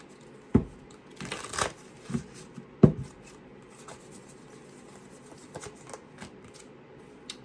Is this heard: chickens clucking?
no